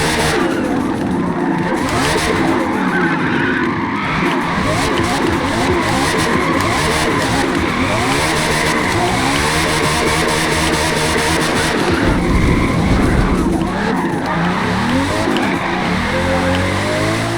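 A 2018 TVR Griffith with a naturally aspirated 5.9-litre V8, drift-tuned for rear-wheel drive in Forza Motorsport, howls loudly and continuously while its tires squeal and skid through long slides.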